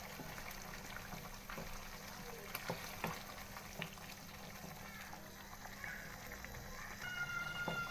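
Cream and yogurt being stirred into a bubbling chicken karahi: a continuous soft simmering crackle with scattered spoon scrapes and knocks against the pot, close and fairly quiet.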